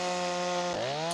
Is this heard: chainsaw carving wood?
yes